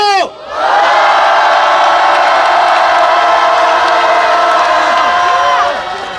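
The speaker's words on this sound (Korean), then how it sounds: "힘찬 함성 질러주십시오." A large crowd at a rally marking 900 days since the Sewol ferry disaster lets out one loud, sustained collective shout for about five seconds before it fades.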